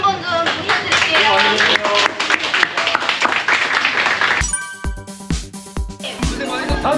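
Crowd applause at an outdoor training session for delivery riders held in heavy rain: dense clapping that starts under loud, continuous talk, then thins into scattered sharp claps toward the end.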